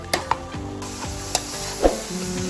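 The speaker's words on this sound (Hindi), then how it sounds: "जब इसको अच्छी तरह से आप भूनेंगे तो ये एक वक्त में आके फिर गाजरें ऑयल छोड़ना शुरू कर देंगी" Grated carrots for gajar ka halwa fry in oil with a continuous close sizzle, broken by a few sharp scrapes and knocks of a spoon stirring in the pan.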